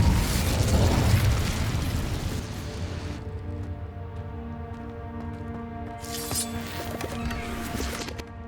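In Hogwarts Legacy, the Incendio fire spell bursts with a loud whooshing blast, then fades into a ringing, crackling tail over quiet ambient tones, with a second flare of hiss near the end.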